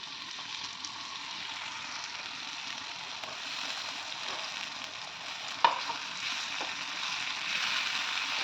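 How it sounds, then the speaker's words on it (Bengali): Spiced tomato masala frying in oil in a pan for a vegetarian chana masala, with a continuous soft sizzle, light stirring scrapes and one sharp utensil tap. "এবার ভালো করে সময় নিয়ে মশলাটা কষে নেব।"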